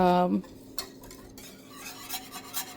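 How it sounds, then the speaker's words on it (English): A whisk stirs chocolate sauce in a bowl, with quick metallic scraping and clinking against the sides. A louder tone opens it, then soft, steady, close-up whisking continues alone. "Now I'm going to stir this up. This time I'm going to go back to my whisk."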